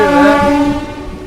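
A MEMU passenger train at Bagalkot railway station sounds a loud, sustained horn with strong layered tones while picking up speed, close and alone for just over a second.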